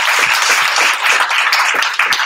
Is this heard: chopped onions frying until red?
no